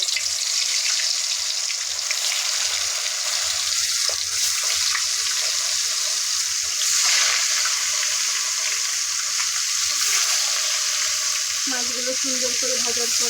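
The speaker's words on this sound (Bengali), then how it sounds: "এখন আমরা মাছ দিয়ে দেব।" Pangas fish frying in hot oil in a wok, with a dense, continuous close sizzle and spatter and occasional stirring scrapes throughout.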